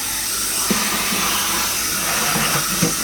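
Compressed air at 175 psi blasting through an air duct to stir up dust, a steady loud hiss and rush that holds throughout with faint knocks of debris inside the ductwork.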